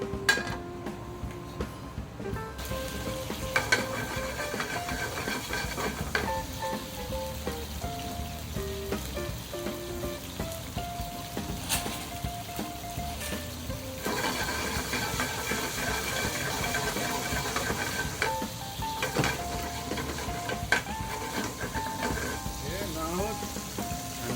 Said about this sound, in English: Start garlic, change a little bit color brown